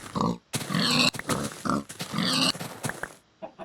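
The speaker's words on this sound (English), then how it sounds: "There's a lot of pig." Pigs oink and grunt in Minecraft, a close, loud run of repeated snorting squeals with brief pauses between bursts.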